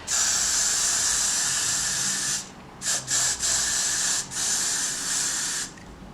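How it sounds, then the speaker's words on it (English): A steady spray of Got to Be Glued hair adhesive hisses on a wig for a couple of seconds, then comes in several short bursts before a longer continuous spray that stops abruptly. "You're going to want to spray it with this Got to Be Glued blasting free spray."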